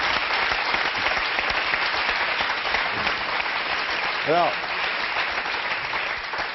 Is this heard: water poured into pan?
no